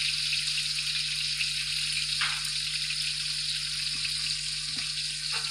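Chopped onions frying in oil in a pan while browning for mutton yakhni pulao: a steady, moderately quiet sizzle with a few soft stirring clicks, no talk.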